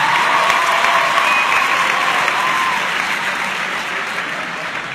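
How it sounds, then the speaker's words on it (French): Loud, dense applause from a gala audience rolls on steadily, then slowly eases in volume toward the end, with no speech over it. "Je voudrais juste qu'on applaudisse encore une fois Amir"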